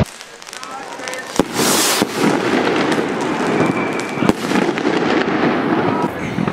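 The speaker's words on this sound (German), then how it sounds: "jetzt blende ich euch nochmal ganz kurz die Funke-Salut-Raketen ein" Funke Salut fireworks rockets bursting outdoors, a steady crackling wash with sharp louder bangs near the start and middle, fairly close and sustained, with faint voices in the background.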